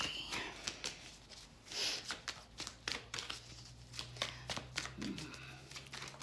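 Tarot cards being shuffled by hand, a quick run of crisp riffling snaps and slaps in an irregular rhythm, close and moderately loud, with a low steady hum underneath.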